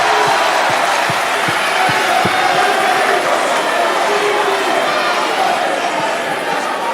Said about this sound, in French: Et donc applaudissez-vous, s'il vous plaît,